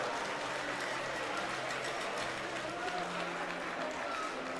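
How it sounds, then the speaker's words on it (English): A crowd claps and cheers steadily through a cheer tunnel at a university swimming national championship awards ceremony, a dense, continuous wash of applause heard at moderate distance. "We've got a cheer tunnel here"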